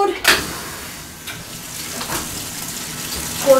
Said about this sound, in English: You start your washer like you typically would.